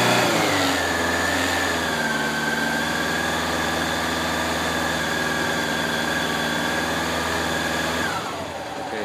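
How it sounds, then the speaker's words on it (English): A Honda Nighthawk 750 motorcycle engine is held at a steady raised rev of around 2000 RPM, a loud, continuous drone with no talk, then it drops off abruptly near the end. "I'll rev it up to about 2000 RPM or so, or 2500"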